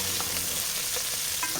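Chicken biryani masala frying in a pan, a steady dense sizzle with faint stirring scrapes, close and continuous throughout.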